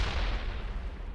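A grenade goes off in Mass Effect Legendary Edition, a short, heavy, low explosion that rumbles and fades over about a second.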